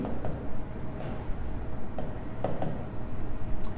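Marker or chalk scratches across a board in a chemistry classroom, a series of short strokes close to the microphone over a low room hum.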